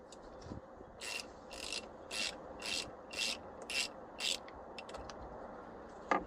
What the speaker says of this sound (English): First thing that I want to do is disconnect the negative battery terminal. This is a 10mm nut.